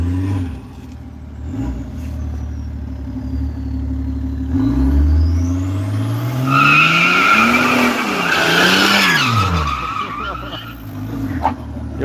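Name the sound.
new car doing donuts, tires skidding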